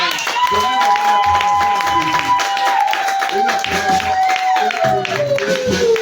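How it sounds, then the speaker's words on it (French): A church congregation claps and cheers continuously in a reverberant room, with a sustained tone and voices mixed into the applause. "Donnez-moi une acclamation à Jésus."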